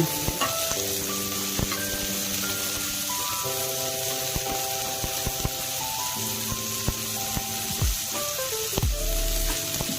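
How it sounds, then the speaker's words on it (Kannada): Onions, green chillies and curry leaves fry in a pan, giving a steady loud sizzle throughout with occasional stirring scrapes and clinks close by. "ಈರುಳ್ಳಿ ಫ್ರೈ ಆಗಿದೆ"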